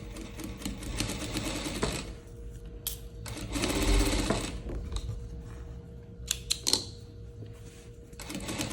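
A sewing machine stitching a leopard-print dress, rapid mechanical stitching in bursts separated by short pauses and sharp clicks as the presser foot is raised, close and clear with faint handling sounds between runs.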